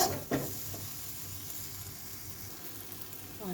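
Semolina halwa with food colouring frying in a pan while being stirred, a faint, steady sizzle with a couple of soft scrapes at the start and end, quiet and close with no talk.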